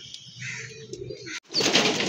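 A pigeon comes flying in from across a river at great height, a soft rustle of flapping wings and faint cooing followed by a louder burst of wing noise as it lands close by.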